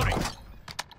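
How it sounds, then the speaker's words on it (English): Quick mechanical clicks and clacks of a weapon being reloaded in Modern Warfare, two sharp metallic snaps near the end after a brief rustle, close and fairly quiet. "Reloading!"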